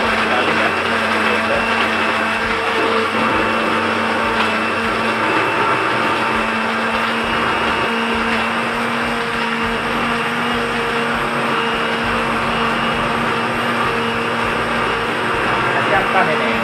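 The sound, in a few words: kitchen blender running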